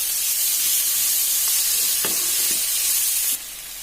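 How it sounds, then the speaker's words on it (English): Tomatoes hit hot onion masala frying in oil for garlic bhindi do pyaz, giving a steady loud sizzle and hiss throughout, with a few stirring clicks, before the sizzle drops slightly near the end. "I'm going to add the tomatoes and let the tomatoes cook along with this onion"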